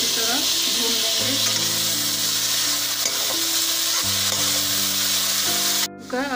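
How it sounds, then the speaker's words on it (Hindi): Chopped green chilies and onion fry loudly in a pan, a dense continuous sizzle with stirring and occasional clinks. Low hum tones run underneath and no one speaks. "अब इसको हम एक मिनट तक इसी तरह भून लेंगे।"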